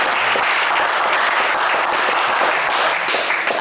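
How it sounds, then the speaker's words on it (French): Studio audience applause on a French game show for contestant Ornella, a steady, loud wash of clapping holding evenly throughout. "on vous applaudit quand même"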